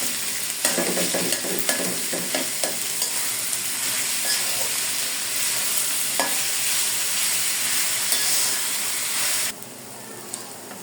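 Chopped onions sizzling in hot oil in a home kitchen pan with salt added, a steady bright frying hiss broken by scraping stirs of a spatula, close and loud, with the sizzle dropping sharply near the end.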